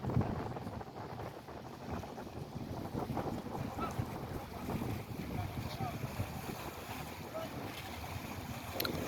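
Wind blows hard across the seashore, buffeting the microphone as a low, continuous rumble, with faint voices in the background.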